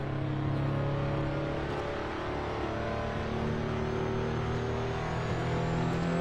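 Modified RUF CTR Yellowbird turbo engine in Assetto Corsa, a steady droning engine note with layered harmonic whine, holding a fairly even pitch with slight rises, moderately quiet and continuous.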